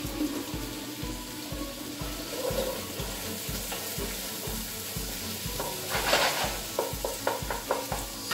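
Chopped onions fry in a pan as the base of a bolognese sauce, giving a steady, close sizzling hiss with soft rhythmic scraping and stirring beneath it and brighter crackles near the end.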